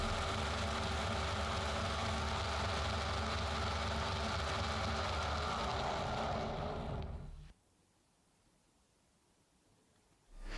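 Drill boring into a small clock gear, a dense, loud, steady grinding whir that runs for about seven seconds, then cuts off abruptly into near silence.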